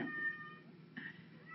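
A pet cat with white-tipped ears meows twice, a short drawn-out cry followed by a second briefer one, faint and close in a quiet indoor room.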